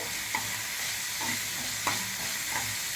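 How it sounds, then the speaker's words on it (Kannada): Ridge gourd peel frying in a little oil, a steady sizzle with a spoon stirring it through the pan every second or so. "ಸ್ವಲ್ಪ ಎಣ್ಣೆ ಹಾಕಿದ್ದೀನಿ ಸಿಪ್ಪೆ ಸ್ವಲ್ಪ ಫ್ರೈ ಆಗಲಿ"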